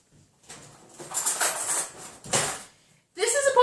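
Metal cutlery clatters in a kitchen drawer as a fork is grabbed for making microwave bacon cheese muffins, with several short rattling bursts and a brighter clink at the end.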